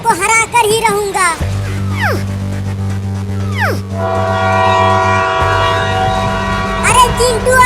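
A cartoon train passes with long, loud horn or whistle tones over a steady rumble, with several rising whistle-like sweeps and music-like tones running throughout.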